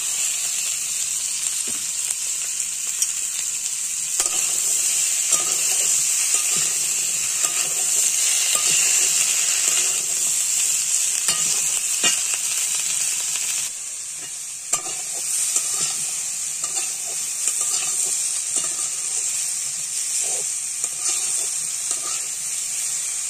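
Oil sizzles loudly in a pan as kohlrabi and pumpkin stems cook, a steady close hiss broken by repeated clatters of stirring, with no voices.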